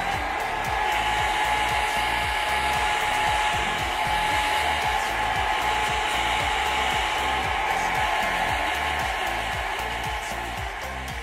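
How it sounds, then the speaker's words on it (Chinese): A hair dryer blows steadily to set freshly applied makeup, a close, even whooshing motor drone that holds unchanged for about ten seconds. "吹风机吹10秒"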